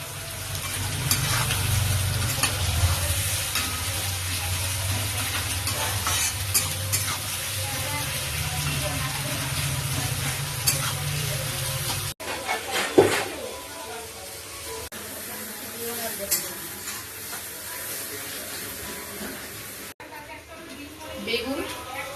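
Sliced onions with a little salt fry in hot oil in a pan, giving a steady close sizzle with stirring scrapes, then quieter frying after a cut, with someone talking over it at times.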